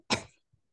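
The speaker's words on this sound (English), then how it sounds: "Yeah, cough, right?" A single short cough, a sharp burst that fades quickly, followed by a faint soft sound and silence, heard during a guessing game in an English lesson.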